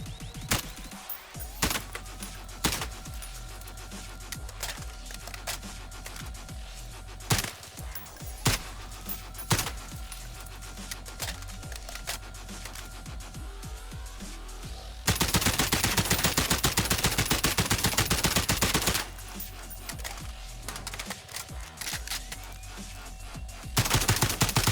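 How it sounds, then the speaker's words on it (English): Rapid FAL rifle fire in Call of Duty Warzone: crisp separate shots give way to a long, unbroken volley, then a short pause and another burst, loud and up front with no talk. "now let's see how the weapon works when it comes to firing"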